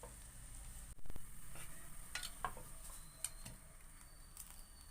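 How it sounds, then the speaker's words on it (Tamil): Bread slices toast in a pan for bread masala with a soft, low sizzle, broken by a louder clatter near the start and a few scattered light taps. "டோஸ்ட் பண்ணி எடுத்துக்கலாம்."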